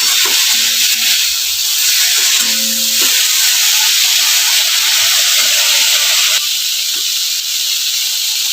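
Garlic fries in a pan for a pumpkin-leaf paste, giving a loud, steady hiss and sizzle up close that runs without a break, with faint scrapes and clicks underneath.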